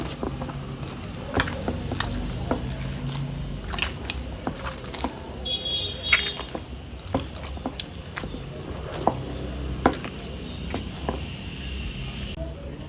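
Maida dough for date holige, oiled and then beaten and kneaded on a slab, gives repeated sharp slapping thuds at an uneven pace over soft squishing, close by throughout.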